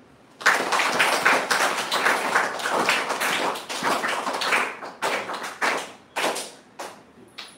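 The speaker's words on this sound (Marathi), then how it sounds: "सर्वप्रथम आपण शब्दसुमनाने टाळ्या वाजवून त्यांचं स्वागत करूया." Audience applause of welcome at a Ram Navami gathering in a Harihareshwar temple, a dense, steady clapping crowd that thins into scattered separate claps toward the end.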